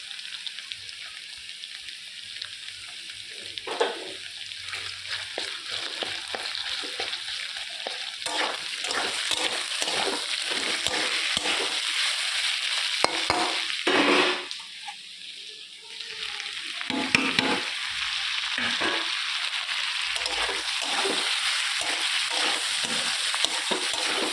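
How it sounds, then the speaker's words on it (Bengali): Spice paste with tomato and garlic fries in a pan, a continuous close sizzle broken by repeated stirring scrapes and bursts of crackling, steady throughout with one brief lull. "এটা ভাজা ভাজা হয়ে গেছে, রসুনটা একটু দিয়ে দিই"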